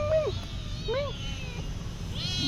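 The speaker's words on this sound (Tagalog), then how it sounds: "Maingay yung maliit na pusa." A small cat meows twice at close range, short rising-falling cries, against steady low background rumble at an outdoor jackfruit farm.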